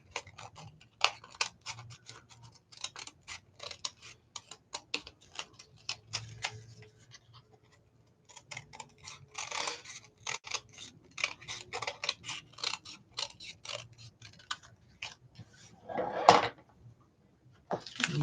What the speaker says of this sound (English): I'm going to trim this up just a little bit because it didn't quite match